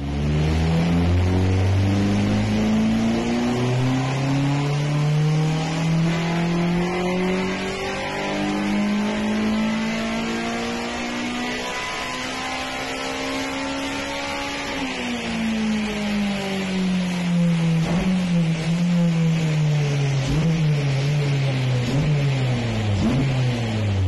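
A Arion sports car engine drones steadily close by, its pitch climbing and falling as it accelerates and eases off on a test drive, loud and continuous with no talking.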